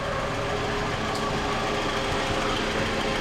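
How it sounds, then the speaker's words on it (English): A 2007 Toyota Camry engine idles steadily with a smooth, continuous hum and light vibration throughout, no talk over it. "engine seems to be nice and smooth"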